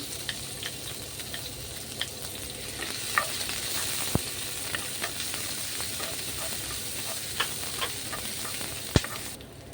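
Chopped onion sizzles in a pan with hot oil, a steady frying hiss punctuated by scattered pops and clicks of stirring, close and fairly quiet, no talking.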